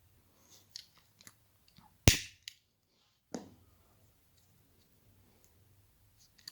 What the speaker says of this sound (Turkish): Fazla ipimi yakıyorum.